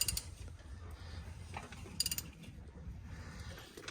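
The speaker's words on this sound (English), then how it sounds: "Oh, you heard the rod? That might be a broken rod." An engine with its spark plugs removed is turned over slowly by hand, its piston striking a broken connecting rod. Faint, close mechanical clunks and clicks come in an irregular series, with a sharper knock near the middle.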